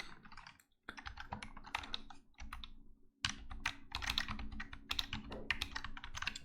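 Someone types rapidly on a computer keyboard, producing dense, uneven bursts of clicking keystrokes with a couple of brief pauses, close and alone.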